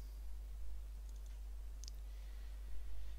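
Mouse clicks on a computer while opening a file in Windows, a few quiet sharp clicks spread across the clip over a steady low hum.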